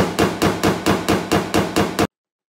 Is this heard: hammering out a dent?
yes